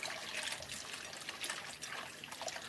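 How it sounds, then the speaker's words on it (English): Fresh water runs from a kitchen tap into a pot for boiling potatoes, a steady close splashing trickle that carries on throughout without a break and with no one talking. "I will grab this and get some fresh water going on here."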